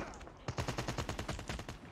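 Rapid bursts of Call of Duty Mobile gunfire, a dense run of sharp shots fired in quick succession at a steady rhythm.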